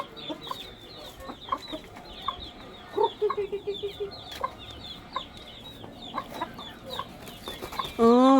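Several chickens cluck on and off at moderate distance over a steady outdoor background, while being fed corn, with a louder burst near the end.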